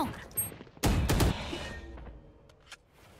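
Sheriff pistol with a custom skin firing in the shooter game Valorant: a loud, close, heavy blast with a rumbling tail that fades over a second, followed by faint clicks.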